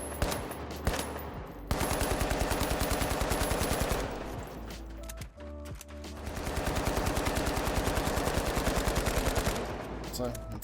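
Rapid automatic gunfire from a weapon in the video game The Finals, two long sustained bursts of evenly spaced loud shots separated by a short pause, with a voice speaking faintly underneath.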